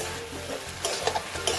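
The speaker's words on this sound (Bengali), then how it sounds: "তারপরে তরকারিটা হালকা ভাজা হয়ে গেলে ওর মধ্যে একটু টমেটো কুচি দিয়ে দিয়েছি।" A home vegetable curry with chopped tomato fries in a pan, a steady close sizzle broken by light scrapes and clinks as it is stirred, with no voices.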